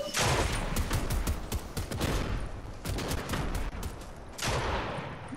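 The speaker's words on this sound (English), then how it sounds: "Bro, why are there so many ice explosions?" Rapid bursts of ice explosions in a video game, dense crackling blasts in clustered volleys with short lulls between them, loud and close.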